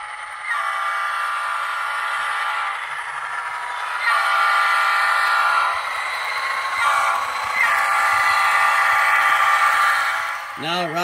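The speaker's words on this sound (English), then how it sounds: "Now arriving on track number one, train 3147." A model train hums steadily along its track with a rhythmic whirring that swells and fades, ending in a short rising whistle-like tone.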